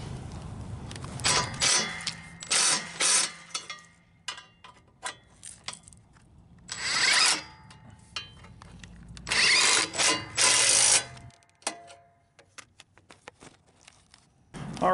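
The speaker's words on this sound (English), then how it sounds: "Go ahead and tighten down your bolts here." Power tool driving bolts on a mower cover of an MTD riding mower, several loud close bursts of whirring separated by quiet pauses, with clicks and handling noises between them.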